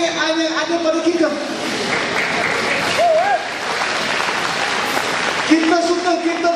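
Audience applause at a Malaysian political rally, a broad wash of clapping that stays steady, with a speaker's amplified voice heard at the start and again near the end.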